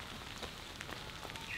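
Rain falls steadily on a wet campsite, giving a soft, continuous patter with scattered faint drips and taps, fairly quiet and even throughout.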